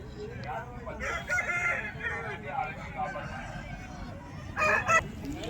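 A young rooster of about three kilos crows at a rooster market, two strained bursts standing out above a steady crowd murmur, with someone talking through much of it.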